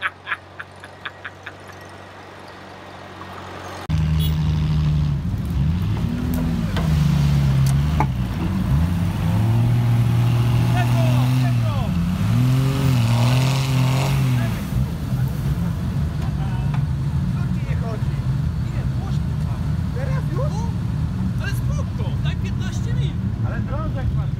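A Steyr-Puch Pinzgauer 710M off-road truck's engine rumbles steadily nearby at an off-road rally, revving and shifting through low, uneven tones as it drives, with people talking over it.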